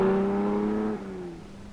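A Triumph sports car engine revs with sharp throttle response, a steady harmonic drone that drops in pitch partway through and carries on at a lower note, fairly close and alone.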